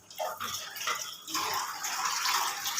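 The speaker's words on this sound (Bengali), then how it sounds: "এরপরে পানিটাও দিয়ে দিতেছে" Water is poured into a small pot of beef coated in oil and spices, a steady close splashing rush that starts abruptly and continues throughout, briefly dipping and then pouring on.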